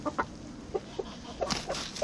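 Hens clucking inside a coop on a farm, a series of short, fairly soft clucks in an irregular rhythm, close by with no talking.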